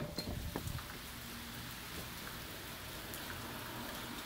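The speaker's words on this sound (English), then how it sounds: "It's raining." Steady rain patters on a surface, a soft continuous hiss with scattered drops, fairly quiet and unbroken throughout.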